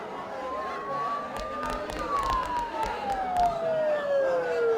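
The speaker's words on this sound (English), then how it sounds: "Don't those sirens sound really close?" Sirens wail from a distance in the video game Persona 4, a gliding tone rising then slowly falling over a foggy, muffled background with faint scattered thumps.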